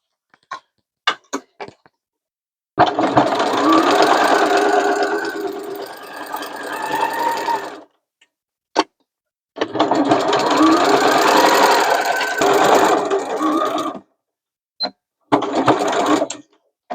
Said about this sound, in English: I'm thinking actually I should probably change to my walking foot for this because of the bulk of the batting